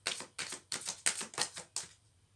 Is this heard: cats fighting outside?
no